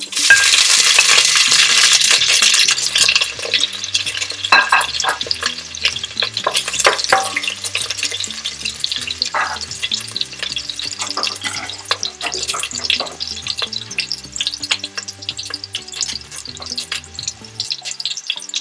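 A burst of loud hissing as onion hits hot oil in a saucepan, settling into a continuous sizzle with stirring scrapes and clinks, close by, over a low background hum.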